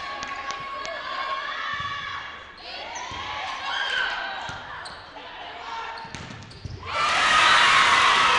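A packed home crowd at a high school varsity volleyball senior night in Lake Havasu starts with scattered shouts and gym noise with a ball bounce, then erupts into a loud, roaring cheer that swells and holds to the end.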